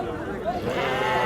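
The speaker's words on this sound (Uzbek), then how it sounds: "mana ona bola qo'ylar 5 dan tepasiga bo'lsa beraman deyapti" Ewes and lambs at the Chim livestock market in Qamashi, Qashqadaryo, let out a short, close bleat amid a busy background of voices.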